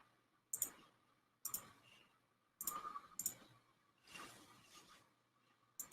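A computer mouse clicking during digital collage work, sharp close clicks spaced roughly a second apart, some in quick pairs, with faint rustling between them and no talking.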